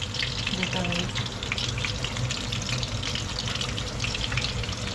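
Water poured into a pan of simmering meatball sauce, a steady rushing gush over bubbling and sizzling, close and loud for the whole stretch.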